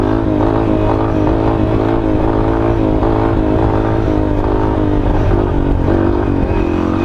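A small motorcycle engine revs loudly and continuously up close during wheelie practice, its pitch rising and falling steadily with a faint clatter in the background.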